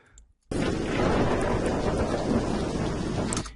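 Thunderstorm sound effect of rain and wind that bursts in abruptly after a near-silent start, a loud dense rush of heavy rain with deep rumbling underneath, holding steady before cutting off at the end.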